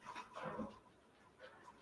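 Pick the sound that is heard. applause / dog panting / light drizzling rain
dog panting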